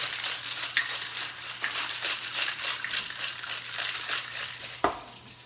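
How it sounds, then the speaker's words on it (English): A tequila cocktail mixture being shaken, producing a continuous rattling, crunchy churn of ice with a sharper knock near the end, close and moderately loud. "I'm going to shake that up a little bit, mix it up a little bit"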